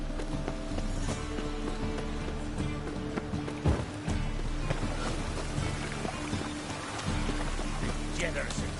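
Rain patters steadily in a town in The Witcher 3: Wild Hunt, a continuous wash of falling drops with hoof clip-clops and scattered ambient thumps mixed in.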